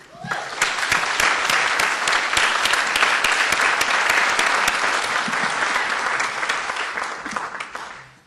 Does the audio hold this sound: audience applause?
yes